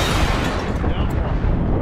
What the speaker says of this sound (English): I think they just airstrike.